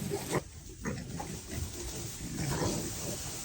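Indoor-bred pigs in a pen grunt and snuffle in low, overlapping bursts, close by and continuous for a few seconds with rougher squeals near the start.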